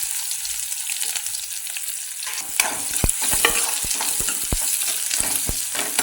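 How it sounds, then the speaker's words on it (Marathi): Onion stir-fried in oil tempered with mustard seeds and cumin for a village-style tomato curry, a bright hiss of frying joined by a quick run of rhythmic metallic scrapes and taps from stirring, close and loud. "कांदा छान असा परतून घ्यायचा"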